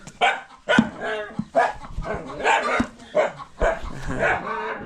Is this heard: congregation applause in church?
no